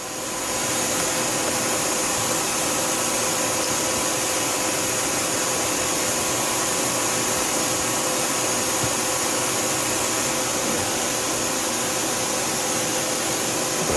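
The back spindle of a 2011 Tsugami S206 CNC Swiss lathe runs with a steady, even high-pitched whine and airy hiss. The tone holds constant and fairly loud throughout, with no speech.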